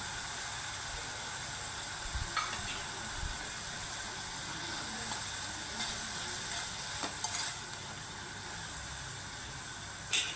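Curry leaves frying in hot oil with dry anchovies in an Andhra-style fry, a continuous hissing sizzle at moderate level with a few faint scrapes and clicks from stirring, close by and without speech.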